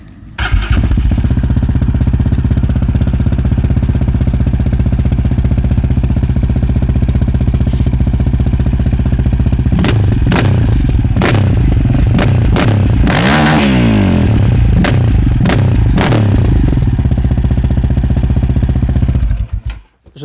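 A Yamaha 700 Raptor quad with its exhaust baffle removed idles loud and steady up close, then revs hard in a run of sharp throttle blips that rise and fall before settling back to a rough idle.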